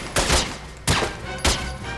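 Three loud gunshots ring out in The Godfather II video game, each a sharp, close crack with a lingering echoing tail, spaced roughly half a second apart.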